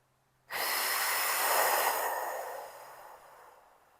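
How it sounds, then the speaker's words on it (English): A single long, deep exhale during a pilates workout, a close breathy rush of air that swells and then fades over about three seconds. "take a nice deep breath."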